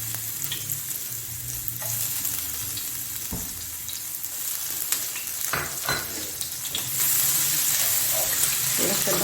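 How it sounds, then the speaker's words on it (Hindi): Ginger and garlic fry in hot oil in a frying pan, a steady close sizzle with occasional stirring clicks and scrapes that grows a little louder toward the end. "तो मैं अब फ्राई पैन में ऑयल डाल दिया है मैंने, और इसमें मैं डालूंगी अदरक और लहसुन।"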